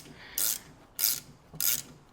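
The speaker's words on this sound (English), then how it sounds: "Go ahead and put this bolt back on." Ratchet wrench snugging down a bolt on a daily-driver car, three short bursts of rapid clicking separated by brief pauses, close and fairly quiet.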